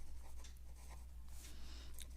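Pen scratching out an answer on paper in soft, quick strokes over a low steady hum, faint and close.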